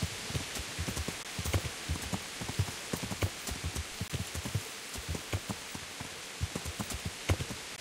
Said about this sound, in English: Hopefully it stops raining.